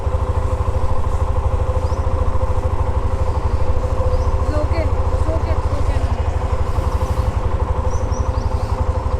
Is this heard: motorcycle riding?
yes